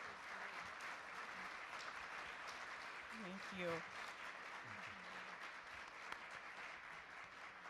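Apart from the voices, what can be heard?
audience applause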